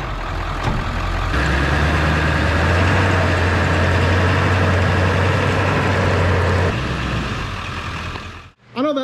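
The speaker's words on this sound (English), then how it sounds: "we're gonna get the truck backed in here, get it on the lift and go to work on it" A 7.3 Powerstroke diesel Ford truck, a $500 project vehicle, backing in with a deep, steady engine rumble that swells and holds for several seconds before dropping away, close by and loud.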